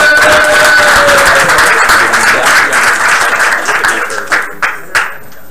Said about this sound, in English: Another round of applause for the coordinators,